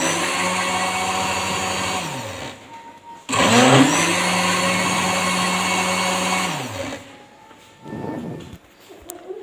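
A kitchen blender churns cream into homemade butter in short bursts, a loud whining motor that runs for a few seconds, stops, restarts, winds down with a falling pitch, then gives a brief final pulse.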